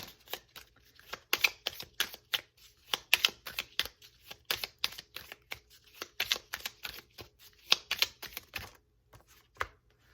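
Tarot cards shuffled and drawn in a quiet room, a string of crisp riffling snaps and taps in irregular bursts, close and clear with short pauses between.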